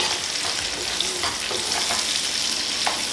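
Ginger sizzles in a hot frying pan for minced beef macaroni, a steady close crackle of frying with occasional stirring scrapes.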